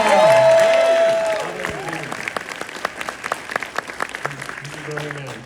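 At the Scott Pilgrim Takes Off premiere, a crowd breaks into applause with some cheering, rising as a tonal music sting fades out, then sharp individual claps scattered through a thinning ovation, fairly close and loud.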